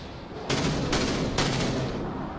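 Heavy ship weapons fire in the space combat game Dreadnought, three loud broadband blasts about half a second apart that sustain into a roaring wash, with no talk over them.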